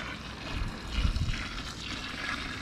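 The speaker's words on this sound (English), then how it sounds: "Now we're gonna pour the hot water into our grain." Hot water at about 165 degrees poured into a vessel of brewing grain for home beer making, a soft continuous splashing and gurgling pour lasting a few seconds, quiet and close, with no voices.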